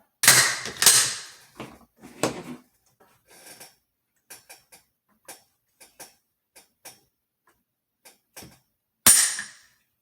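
A Swiss K31 rifle trigger is worked against a trigger gauge, giving a scattered series of small, sharp metallic clicks and taps, close and isolated, with louder handling rattles at the start and end.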